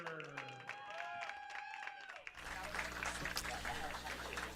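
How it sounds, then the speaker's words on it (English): A voice speaks over a loudspeaker at a baseball game, then a large crowd breaks into loud, sustained applause and cheering that fills the rest of the clip. "let's have a big round of applause"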